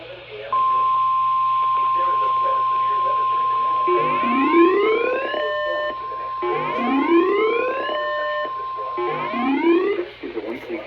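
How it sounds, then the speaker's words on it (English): A NOAA weather radio broadcast carries a steady 1050 Hz warning tone during a required weekly test from station WXM60, followed by repeated rising warbling data bursts, with a voice speaking faintly underneath. "The warning alarm tone will be activated for hazardous weather watches"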